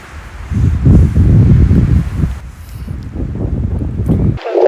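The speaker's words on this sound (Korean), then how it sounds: "바람이 불어서" Strong wind gusting across a microphone on Cheonggyesan's Jindallae ridge trail during a rainy mountain hike, a loud rumbling buffet that surges and eases, dropping off abruptly at the end.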